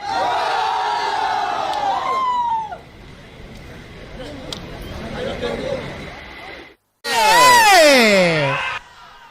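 A crowd at a Kambala buffalo race shouts and whoops loudly in long rising cries, dips into quieter murmuring, then erupts in another burst of loud cheering.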